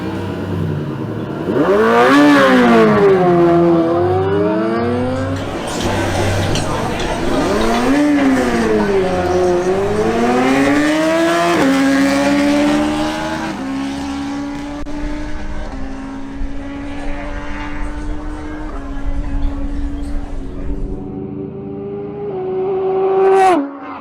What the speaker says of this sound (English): Next, we have the Yamaha MT-10 of Mauricio Diaz facing off against Pedro Infante's BMW S1000R